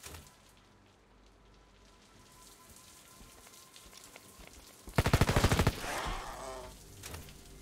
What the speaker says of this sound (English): Do you like a machine gun in the face?